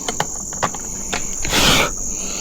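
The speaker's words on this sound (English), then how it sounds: "The bugs were just so intense I couldn't concentrate" Insects chirp outdoors at a catfish fishing spot, a loud, steady high-pitched drone that continues throughout with a few soft thumps and a brief swell of noise.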